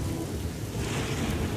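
Steady, dense rain hisses continuously at a day-labourers' gathering spot, with a low rumble of thunder underneath and no voices.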